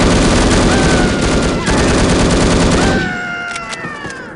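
Explosion and rapid gunfire in the shooter game No One Lives Forever: a dense, loud burst of blasts and shots filling the first three seconds, then fading into a quieter tail with lingering ringing tones.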